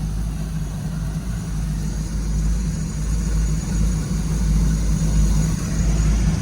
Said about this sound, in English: these are great, reliable Mercury racing engines here